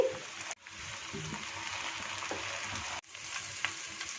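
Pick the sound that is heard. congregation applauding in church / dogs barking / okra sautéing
okra sautéing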